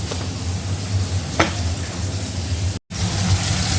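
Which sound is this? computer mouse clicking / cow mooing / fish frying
fish frying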